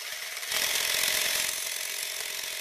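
An Elgin Genius sewing machine stitching a decorative seam, a rapid, even mechanical whir and clatter that starts up sharply and runs on steadily, fairly quiet and close.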